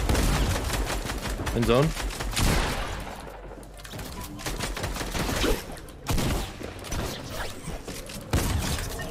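Rapid bursts of video game gunfire from Fortnite crackle in dense volleys, loud and close, with players talking over the shots.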